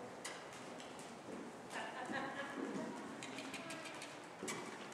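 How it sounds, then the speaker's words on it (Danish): Hooves of a ridden horse clip-clopping at a stable, soft irregular steps at moderate distance with birds cooing nearby and faint voices in the background. "Når Camilla er færdig med at ride og støjer hesten"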